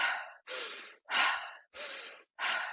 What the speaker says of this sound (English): the 10 single breaths.